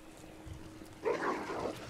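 A zombie dog in Resident Evil 2 lets out a sudden harsh snarl and bark after a quiet, murky stretch. The growl is close and rough and lasts under a second.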